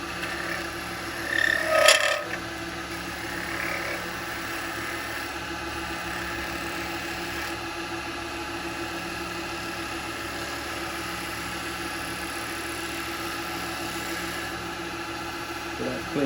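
A wood lathe spinning a yew bowl blank as a sharp gouge cuts, giving a steady low motor hum with a continuous scraping texture, a brief louder clatter near the start, and a voice speaking over it.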